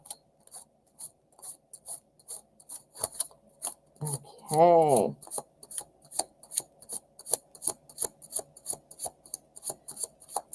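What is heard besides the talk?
tarot cards being shuffled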